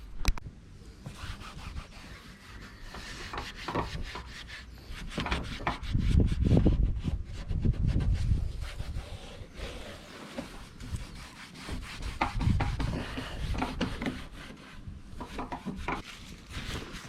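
Van paint being sanded by hand to prepare for 2k filler primer, heard as steady, close rasping and rubbing strokes that swell and ease in rhythm over the whole stretch.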